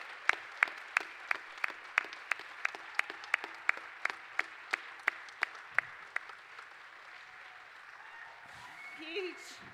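Audience at a WOMAD 2016 festival talk claps for the Young Green Britons, a regular series of sharp individual claps that thins out and fades after about six seconds, with faint murmuring at the end.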